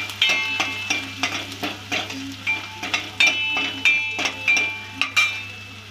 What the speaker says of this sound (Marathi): परतून घेऊया कांदा तेलामध्ये.